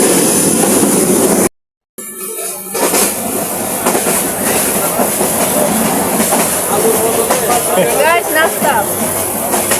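Train rolling along rails during a trip in Sylhet, a steady broadband rumble with faint rhythmic clatter, close and fairly loud, under people talking, with a brief silent gap near the start.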